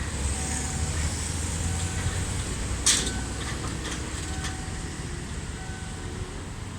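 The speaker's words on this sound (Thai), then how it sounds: "รถจักรอันสตอมกำลังจะวิ่งผ่านจุดตัดทางรถไฟ แยกสามเสนนะครับ" Steady low rumble of an Alsthom diesel locomotive rolling past a level crossing, with a sharp metallic clank partway through and faint tonal ringing over constant engine drone.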